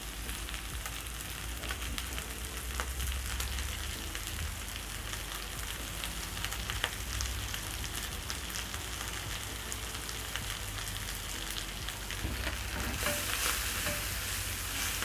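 Spinach and brawn fry in a pan with a constant close sizzle and crackle, steady and unbroken with no voices.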